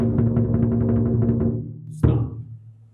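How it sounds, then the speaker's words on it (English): A lion dance drum rolls rapidly with low booming strokes for about a second and a half, then fades. One sharp, loud strike cuts in and rings out near the end. "So there's going to be 3 rolls."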